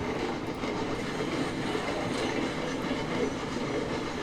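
A heavy freight train rolling on rails in Railroads Online, a continuous loud rumble and rattle of wheels and wagons with faint clickety-clack, steady throughout with no voices.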